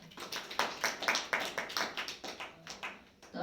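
Hands clapping in an audience at a spiritual gathering, a loose run of claps from a small group, fairly close and alone without talk, rising and falling in uneven bursts.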